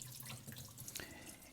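Tap water runs steadily into a kitchen sink as fresh cherries get a rinse, a close, even splashing hiss with a brief sharper gush near the middle.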